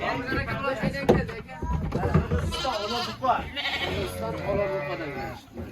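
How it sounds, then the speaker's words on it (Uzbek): Sheep bleat repeatedly, several animals calling over one another close by, mixed with people talking in the background. "44 da qo'ylar yetib keldi"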